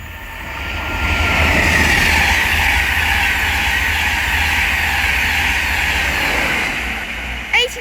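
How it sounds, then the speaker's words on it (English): LNER 225 set passing at speed on the East Coast Main Line at Welwyn Garden City, a loud sustained roar of wheels and rushing air that swells and holds, ending with a brief squeal. "We're about to have an LNER 225 set pass by from Doncaster to London King's Cross."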